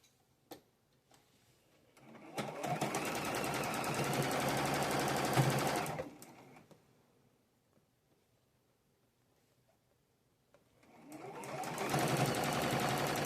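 A sewing machine stitches quilt pieces together in two sustained runs of fast, steady whirring, separated by a quiet pause with a few faint clicks of fabric handling.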